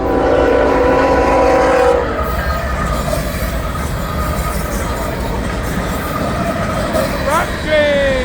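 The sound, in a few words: freight train passing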